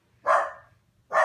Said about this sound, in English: Darcy, don't bark.